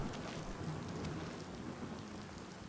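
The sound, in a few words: rain falling in waves, from the video game Oblivion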